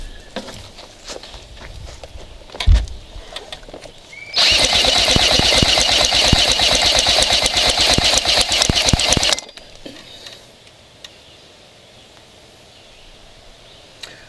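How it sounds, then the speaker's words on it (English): A drill fitted with a 7/8 bit cranks over a 1975 Chrysler Sea King 15 HP outboard engine for about five seconds, a loud, rapid whirring and chugging burst that stops abruptly. Quieter clicks and handling noises come before and after. "use a 7/8 bit and a drill, turn the engine over, and see if the ignition gives us any output"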